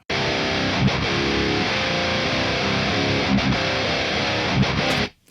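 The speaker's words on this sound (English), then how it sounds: "A nice, full and aggressive guitar tone." Heavily distorted electric guitars in a metal mix play a dense, loud, aggressive riff that cuts off sharply at the end.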